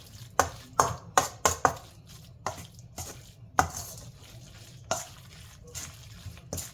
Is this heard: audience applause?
no